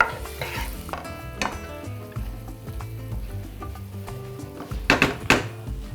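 Onions treated with sugar and baking soda sizzle in a pan for a chicken and bulgur pilaf, a steady close hiss broken by scraping stirs and metallic clinks of a utensil against the pan.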